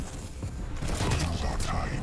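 Gunfire rattles in the Quake video game, a quick series of sharp bursts and impacts packed over a couple of seconds, with a voice speaking over the action.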